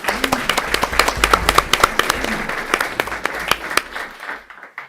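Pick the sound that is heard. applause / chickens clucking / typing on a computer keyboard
applause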